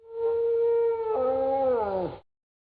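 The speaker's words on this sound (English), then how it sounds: "The dingo is a wild dog that does not bark but howls like a wolf." A dingo, the wild dog of Australia, gives one long howl lasting about two seconds, with the pitch holding steady and then rising and bending down as it fades. It is loud and clear, with no other sound around it.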